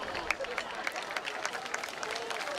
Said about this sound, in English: Nice round of applause for him.